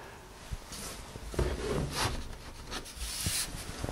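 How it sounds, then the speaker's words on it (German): A carving tool cuts into a woodblock for a colour woodcut, making close, soft scraping and rasping strokes with small scratchy bursts, steady and unhurried. "Ich schneide jetzt ins Holz."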